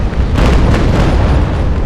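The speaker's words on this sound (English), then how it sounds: "here, have a broadside." Naval brig's cannon broadside in the naval battle game Naval Action, a loud rolling volley of overlapping booms from close range.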